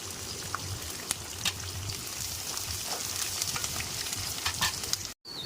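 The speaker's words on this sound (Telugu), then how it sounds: "ఆనియన్ కొంచెం గోల్డెన్ కలర్ వచ్చే వరకు ఫ్రై చేసుకుందాం" Onions fry toward golden in a pan for amaranth leaf and tomato curry, giving a dense, continuous sizzle with light crackles and a brief cut near the end.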